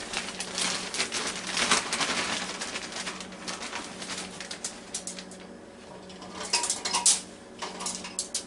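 Light clinks and clatters of French fries being set onto the rack of a NuWave countertop oven, a series of small, close, irregular taps and rattles with no talking.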